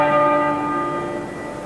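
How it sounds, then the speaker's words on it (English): Tenor bell of Westminster Abbey tolling at the Queen Mother's funeral, a single deep, resonant stroke with a long humming decay that fades slowly. "the tenor bell tolled 101 times"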